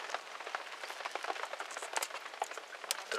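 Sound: light rain falling at lake

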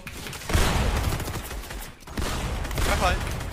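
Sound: gunfire in a video game

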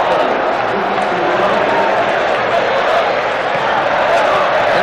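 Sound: Flamengo fans cheering in stadium

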